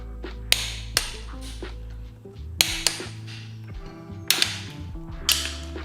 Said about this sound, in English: Now we got to torque down each of these.